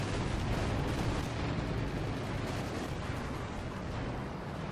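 Heavy gunfire from T-34 tanks in the video game Company of Heroes 2, a dense, continuous roar of cannon blasts and rumbling explosions with no gaps, loud and close.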